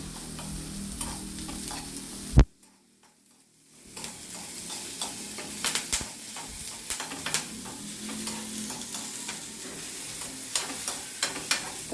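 Onions, curry leaves and garlic fry in oil toward golden with a crackling sizzle and frequent stirring clicks, broken near the start by a sharp knock and a few seconds of near silence before the frying resumes.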